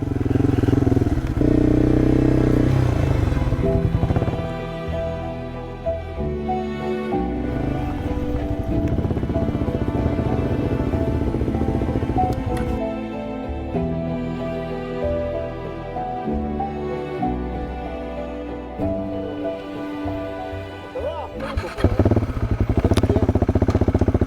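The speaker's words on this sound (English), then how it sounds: "we got some two-strokers up here or something" Two-stroke dirt bikes ride nearby on mountain roads, their engines buzzing and revving with rising and falling pitch, loud and close at the start and end, fading somewhat in the middle, with no talking.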